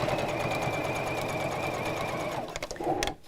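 A sewing machine stitches piping cord onto knitted polyester fabric, a steady close whirring hum that runs for over two seconds before slowing into a few clunks and a brief mechanical rattle.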